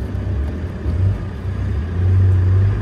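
An old car left outdoors and covered in bird droppings cranks to life and revs, with a steady low engine rumble swelling louder near the end, close by and alone.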